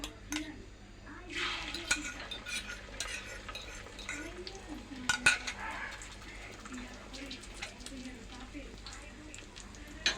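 Egg frying with onion in a pan for breakfast: a spatula stirs and scrapes with light metallic clinks over a soft sizzle, close by, with faint voices in the background.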